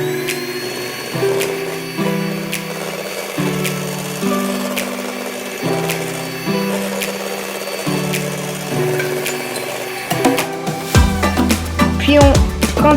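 Beaten egg whites and sugar are whipped by an electric mixer for a lemon meringue tart, its motor whirring steadily with regular shifts in pitch, then turning louder and more clattering toward the end.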